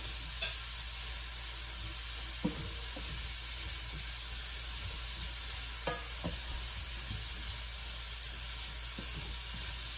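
Cauliflower rice cooks in a hot pan with a continuous bright sizzle and hiss, broken by a few soft scrapes and clicks of stirring.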